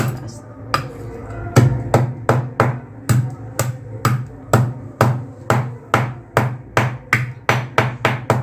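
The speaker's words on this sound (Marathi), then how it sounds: "त्यानंतर काळी मिरी जी आहे ती चांगली आपल्याला याची पावडर करून घ्यायची आहे. अशी जरा अशी ठेसूया." Black pepper being pounded into powder in a home kitchen, a steady series of sharp, close thuds that quicken into a fast even rhythm, with no talk.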